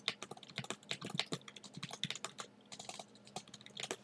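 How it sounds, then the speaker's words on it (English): Quick, uneven clatter of keys on a computer keyboard, close and fairly quiet, with bursts of rapid taps and brief pauses. "So now you're going to type in something,"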